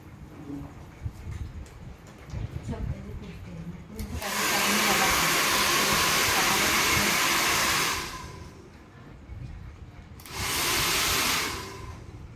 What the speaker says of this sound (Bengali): তো এবার আমার ড্রায়ার চালু আছে।